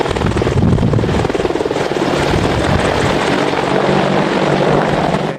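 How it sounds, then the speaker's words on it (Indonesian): An AH-64E Apache attack helicopter's rotor thumps steadily with a loud engine roar, close and continuous throughout, no voices. "helikopter serbu AH-64E Apache"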